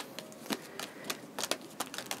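A deck of oracle cards being shuffled up close: a quiet run of irregular crisp snaps and rustles, a few sharper clicks standing out, with no talking.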